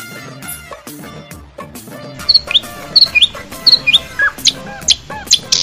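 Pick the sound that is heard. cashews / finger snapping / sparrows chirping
sparrows chirping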